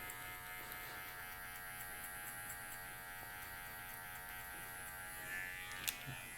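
Electric hair clippers run with a steady buzzing hum while cutting hair with a short 0.5 guard during a modern mullet haircut, fairly quiet and continuous throughout, with a brief sharper tick near the end.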